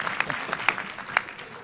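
A conference audience gives a brief, thin round of applause, a few scattered sharp claps standing out from a light patter that fades within two seconds.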